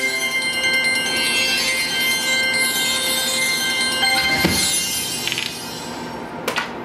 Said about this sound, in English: I do like the sounds it makes when the gems land